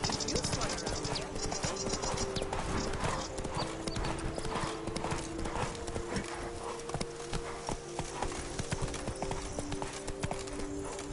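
Roach the horse trots in The Witcher 3: Blood and Wine, with steady rhythmic hoofbeats throughout and other game sounds and voices mixed in behind them.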